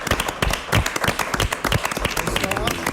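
An audience claps for Manolo Gimenez as he comes onstage at a live French TV broadcast, a dense, lively patter of clapping that runs throughout while a voice talks over it.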